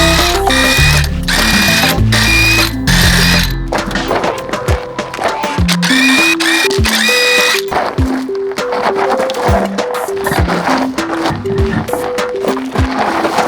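A power tool zips the lug nuts off the wheels of a Lexus GX470, giving a busy mechanical rattle with sharp ratcheting bursts that run steadily and loudly throughout.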